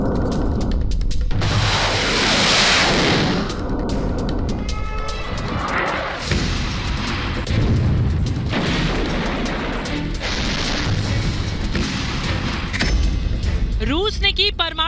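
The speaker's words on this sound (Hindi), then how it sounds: "बाल्टिक सागर में कैसे इस्कंदर मिसाइल का परीक्षण किया है रूस ने" Russian Iskander missile test launch over the Baltic Sea: a loud, sustained roaring blast followed by rumbling booms and bursts, overlaid with other broadcast sound.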